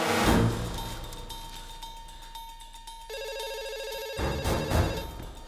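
A telephone rings with a steady electronic tone that cuts in and out, over a busy background of rustling and muffled noise.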